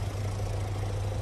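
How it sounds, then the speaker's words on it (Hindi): A Mercedes-Benz GLC 220d 4MATIC from 2022 with its 194-horsepower OM 654 diesel engine runs steadily, a close, even low hum with a constant droning tone and no talk. "OM 654 डीजल इंजन है ये"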